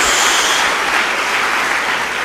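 A church congregation bursts into sustained applause, a dense wash of clapping that holds steady and close for the whole stretch with no voices over it.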